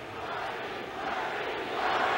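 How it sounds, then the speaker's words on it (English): A large crowd of protesters at a Trump rally chants for Bernie Sanders, the roar loud and continuous and swelling toward the end. "They're now shouting, Bernie, Bernie, obviously in support of Bernie Sanders"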